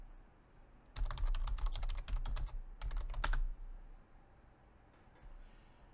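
A computer keyboard clatters with quick bursts of keystrokes close to the microphone as terminal commands are typed to unzip a file, then falls quiet.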